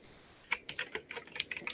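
Computer keyboard keys clicking in a quick, irregular run of about a dozen sharp taps, close and fairly quiet, starting after a brief silent moment.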